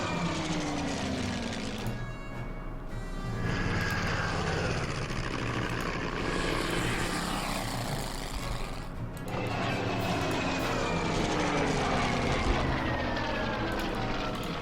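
Aircraft engines droning steadily in the wartime strategy game Order of Battle as planes fly away, a continuous moderately loud hum with shifting whines and passing swells and no speech.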